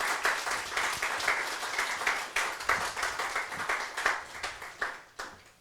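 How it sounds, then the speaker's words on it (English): Congregation applause during a Sunday church service, a fairly sparse crowd clapping in uneven bursts, with individual claps audible as the sound rises and falls before tapering off. "Please give them a round of applause."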